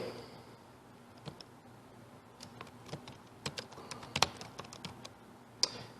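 Typing on a computer keyboard while a customer name is entered, a run of soft, irregular key clicks with a few sharper taps, close and alone over faint room hum.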